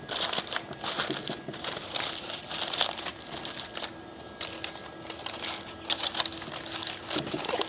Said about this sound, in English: I'm going to be kind of gentle with the foil